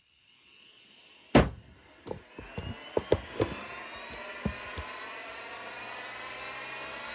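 An RC motorbike's flywheel spins up after a switch-on sharp click, giving a rising high whine that climbs steadily and continues alone, with a few light clicks and taps at the start.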